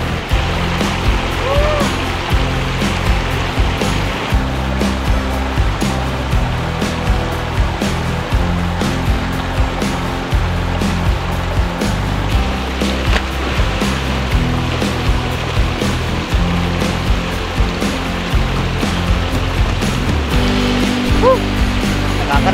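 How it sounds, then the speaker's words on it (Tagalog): River water flowing at a secret riverside camping spot, a loud, steady rushing churn close by, continuous with faint speech briefly under it. "Yan yung ilog."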